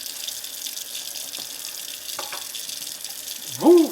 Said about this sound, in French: Alors, on fait couler l'eau.